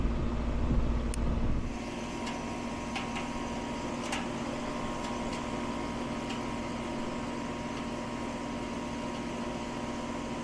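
A Payne air conditioner condenser unit runs steadily outdoors after its coil is cleaned, a constant mechanical hum and whir with faint ticking, a louder rumble at the start, then even and close.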